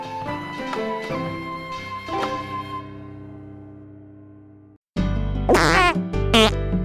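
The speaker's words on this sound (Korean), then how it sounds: "며느리 방귀는 복방귀" A cartoon fart sound effect in a Korean folktale about a new daughter-in-law's fart, arriving loud and wobbling right after a fading musical phrase and a brief silence.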